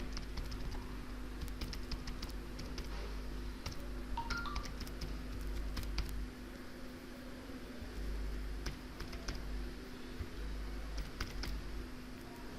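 Computer keyboard typing an email: quiet, irregular key clicks in short clusters over a faint steady hum, with no talking.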